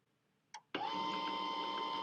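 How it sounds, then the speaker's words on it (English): An HP LaserJet P1505N laser printer starts up with a short click, then runs steadily with a loud, continuous whirring and mechanical hum as it prints. "You can hear it in the background printing to my LaserJet P1505N"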